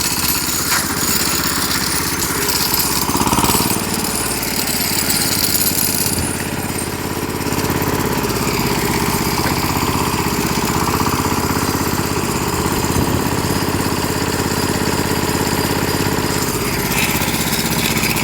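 A walk-behind tractor engine fitted with winter tyres, driving out in winter, with a loud, continuous, rattling single-cylinder drone that stays close and steady throughout, with no voices.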